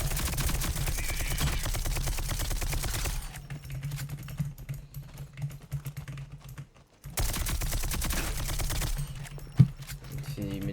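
Gunfire in the video game Rogue Company comes in loud, dense rapid bursts, drops for a few seconds, then returns with another sustained burst.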